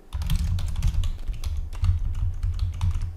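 Rapid, steady keystrokes on a computer keyboard as code is entered, close and fairly loud, a dense run of clicks with brief pauses and no talking.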